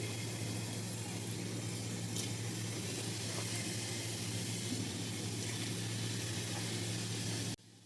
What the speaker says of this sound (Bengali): তেলটা গরম হয়ে যেতে আমি এখন লঙ্কার গুঁড়ো এটা দিয়ে দিলাম, আর তার মধ্যে দিয়ে দিচ্ছি রসুন